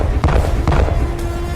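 A drone strike explodes on an enemy target, heard as a few heavy booming thuds in quick succession, loud and close with no voices over it.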